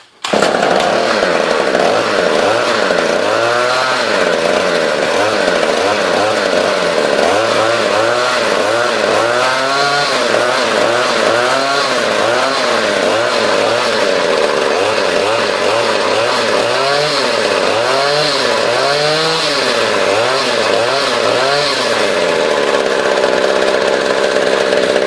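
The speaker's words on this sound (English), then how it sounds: "I can push my finger in there and give it some throttle." A gas string trimmer engine runs on half choke, loud and steady throughout, with repeated revving surges as the throttle is pushed by hand, the pitch rising and falling in uneven bursts.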